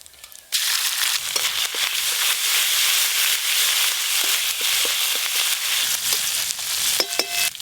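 Asafoetida and ginger-green chilli paste hit hot oil for Radhaballavi filling, bursting into a loud, continuous sizzle with crackling pops and scraping stirs close up, after a quiet start.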